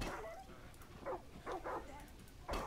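A dog in the video game Far Cry 5 lets out several short barks and whimpers in bursts, fairly close and loud against a low game background.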